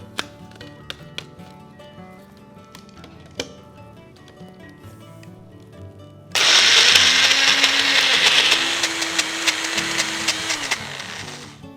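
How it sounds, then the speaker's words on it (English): A blender whizzing basil, pine nuts and olive oil into pesto. Scattered taps and clicks come first, then a sudden loud, close motor roar that holds steady before easing slightly toward the end. "you add a tablespoon and a half of olive oil and you give it a good whiz"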